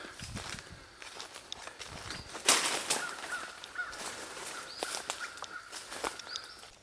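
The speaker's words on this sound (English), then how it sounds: "Trying to follow the crows, like the crows are squawking." Crows cawing in the woods, a few faint scattered caws at a distance, with footsteps crunching through undergrowth nearby.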